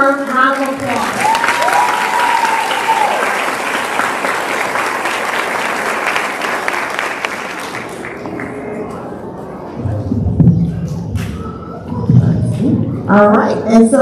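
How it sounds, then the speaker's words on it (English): At a high school graduation ceremony, a large crowd applauds the scholars in a loud, sustained roar of clapping that fades after about eight seconds, followed by a voice talking over a few remaining claps. "Let's give them a well-deserved round of applause."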